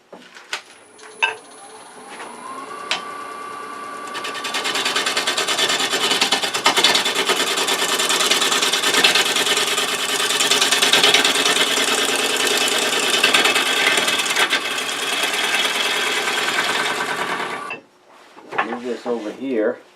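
A wood lathe turning a live-edge winged cherry bowl: a steady loud whirring hum with continuous scraping as a tool works the bottom, running about fifteen seconds before it winds down.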